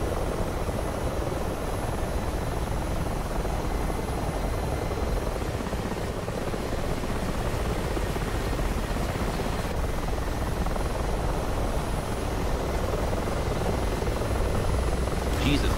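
Continuous loud thumping whir of video-game helicopter rotors, unchanging throughout, with a faint electronic tone on top.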